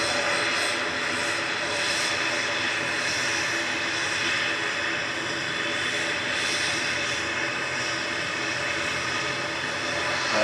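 Aer Lingus ATR turboprop bound for Dublin departs at Manchester Airport. It makes a steady, continuous engine roar with a faint propeller buzz, moderately distant and unbroken.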